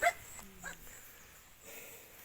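A dog gives a few short, faint barks and whimpers in a quiet indoor setting, spread across a brief moment with no talking.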